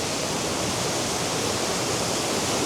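Swollen river and waterfall in Wicklow after heavy rain, a dense, steady roar of rushing water filling the whole clip without letup, loud and close, with no voices.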